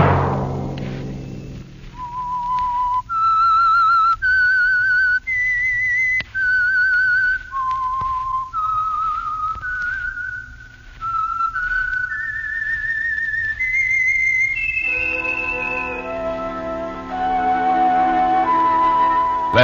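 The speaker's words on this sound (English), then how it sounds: "Let that whistle be your signal for the Whistler each Sunday night at this same time." A lone human whistler carries the eerie theme melody of The Whistler radio show, a long series of clear sustained notes rising and falling over about twenty seconds, with a faint music bed beneath.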